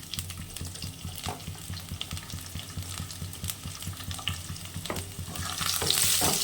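Crushed garlic frying in hot tempering oil for taro greens with chickpeas, a loud, dense sizzle with scattered crackles and a few stirring scrapes, swelling louder toward the end.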